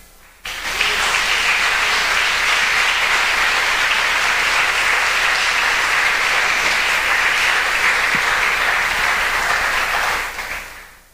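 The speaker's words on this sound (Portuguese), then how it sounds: "Quantos podem dar um aplauso ao Senhor?" A church congregation breaks into loud, sustained applause for the Lord, a dense, even roar of many hands that starts abruptly, holds for about ten seconds, then fades.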